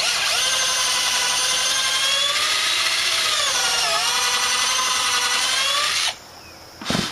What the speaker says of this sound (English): The bit keeps spinning in the chuck